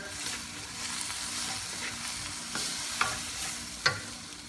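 Milkfish kaldereta with pepper stirs in a hot pan, a steady low sizzle broken by several sharp scraping strokes of the spoon against the metal, close and moderately loud.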